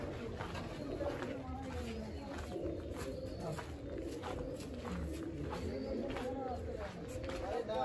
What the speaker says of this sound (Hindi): कबूतर है यहाँ पे तो।